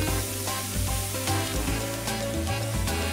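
Pancake batter cooks in a covered pan with a steady, close sizzle and frying crackle, accompanied throughout by background music and with no talking.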